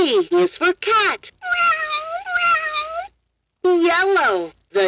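A 2007 Vtech Explore and Learn Helicopter toy plays a recorded cat meowing, several drawn-out electronic meows with short gaps between them, loud and close, alongside the toy's spoken narration.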